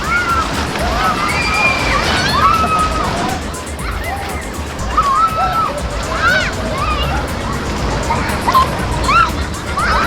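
Strong flowing water current at a waterpark, a steady rushing and sloshing wash heard up close, with people talking and calling out over it throughout.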